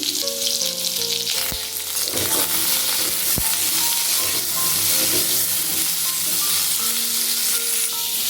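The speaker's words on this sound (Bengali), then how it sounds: "আলুটা যতক্ষণ ভাজা হচ্ছে" Diced potatoes frying in hot oil left over from frying bora, a steady loud sizzle throughout with a few stirring clinks and scrapes, no talking.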